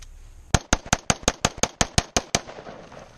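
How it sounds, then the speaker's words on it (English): A Ruger SR556 rifle fired rapidly outdoors to empty its magazine: about a dozen sharp, evenly spaced shots in quick succession, loud and close, then the firing stops. "It's time to dump the mag."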